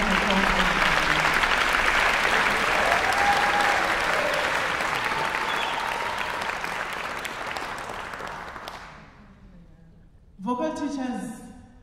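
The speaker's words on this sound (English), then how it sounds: "Round of applause." Sustained, dense audience applause fills a hall at a singing prize ceremony, fading gradually over several seconds before a voice starts speaking over the quiet tail.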